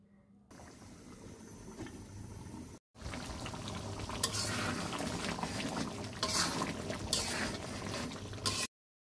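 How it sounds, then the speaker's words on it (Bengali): Hot water poured into a pot of cooking chicken curry gives a steady, close hissing bubble and splash that carries on for several seconds after a brief pause, with no talking. "এবার আমি এখানে দিয়ে দিব গরম পানি।"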